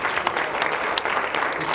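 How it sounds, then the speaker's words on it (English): Audience applause for Chief Paul Olivera of the New Bedford Police Department at a Brownfield training graduation, a steady patter of clapping at moderate loudness with a faint voice underneath. "give him a round of applause, please"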